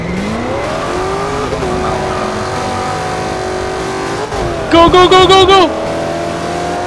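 Race car engines rev and accelerate in a Forza Horizon 2 street race, a 302 Foxbody against a GTO, S15 and Z2, with whining rising engine tones and a burst of pulsed tones midway. A voice shouts once.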